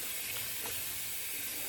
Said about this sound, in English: I'll add a little warmer water into this as well.